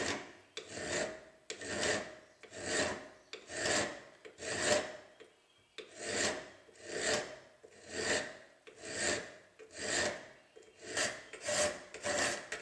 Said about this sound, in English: Jesus will start by filing the notches where the tang meets the blade.